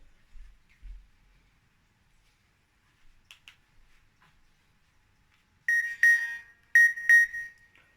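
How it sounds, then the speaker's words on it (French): A phone notification sound arrives while an Android TV box is being set up. Faint short blips come first, then several loud, bright, repeated tonal beeps in quick pairs near the end. "Je reçois un message, une notification sur mon téléphone."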